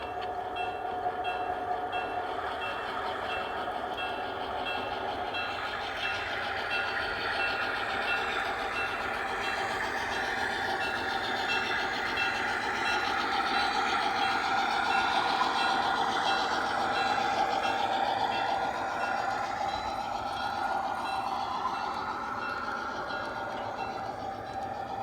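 A G scale model train, just coupled to its cars, pulls the loads on a layout with a steady rolling rumble and a sustained whining tone that rises and shifts in pitch, running continuously with no talk.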